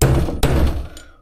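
A hammer knocks sharply on bread packed into a recessed bearing, two distinct thuds with a short ring-off, close and fairly loud.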